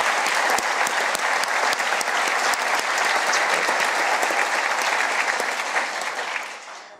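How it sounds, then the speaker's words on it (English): Audience applause during a governor's State of the State address, a dense wall of many hands clapping with sharp individual claps standing out, steady throughout before fading away at the end. "Please give them a round of applause for allowing us to tell their story."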